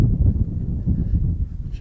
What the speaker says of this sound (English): it's a good windy day for this